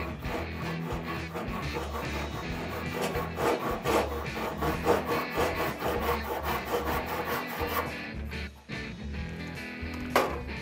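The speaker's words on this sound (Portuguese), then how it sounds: "Agora fazendo um corte utilizando um serrote nacional aqui, que é um serrote de costa." A back saw cuts across a piece of wood in a perpendicular cut, with rapid, rhythmic rasping strokes that are close and clear, a short pause near the end, then more strokes, with no talking.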